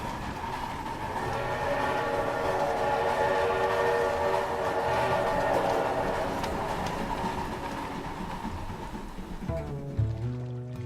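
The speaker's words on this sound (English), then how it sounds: "we chased an old steam train around through the woods and fields" A steam train rumbles past with a sustained, loud horn-like whistle tone over heavy rolling noise, fading toward the end.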